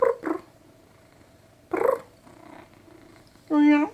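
A cat purrs in a quiet room, a soft low rumble under intermittent bursts of talk, ending with a short, clear tonal cat cry.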